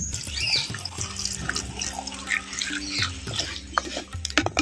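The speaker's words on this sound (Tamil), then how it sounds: "முருங்கைக்காய் வேக வைக்கிறதுக்கு இரநூறு மில்லி தண்ணி சேர்த்துக்கிறேன்" Water poured into a pot of drumsticks for a Chettinad-style dish, a running, splashing pour with drips and a faint metallic clink, close by and without talk.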